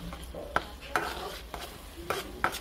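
Garlic and onion sauté in a pan before potatoes go in with dried loitta fish, a low sizzle under a few sharp clicks and scrapes of a spatula on metal.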